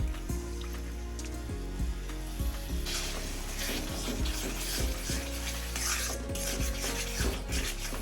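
Leftover chicken stock goes into frying masala for a black chicken curry, bringing a steady sizzle with a spoon scraping and clinking against the pan in a loose rhythm, close up and with no one talking.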